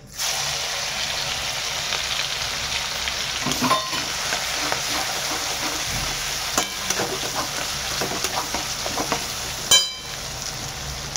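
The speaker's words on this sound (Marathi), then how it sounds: "कढीपत्ता टाकल्यावरती आपण टाकूया लसूण अद्रक आणि मिरचीची पेस्ट" Curry leaves and garlic, ginger and chili paste sizzling in hot oil for a paneer mushroom masala: a steady, close frying hiss with occasional stirring clinks and pops.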